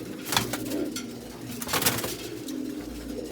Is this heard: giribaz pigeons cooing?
yes